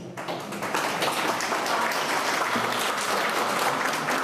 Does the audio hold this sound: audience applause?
yes